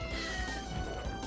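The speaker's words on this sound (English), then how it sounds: "That fucking cat is starting to bother me now." A cat meows in the Castlevania video game Order of Ecclesia, a short repeated mewing over steady game background sound and music, with no talking.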